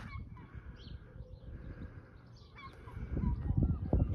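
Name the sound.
seagulls calling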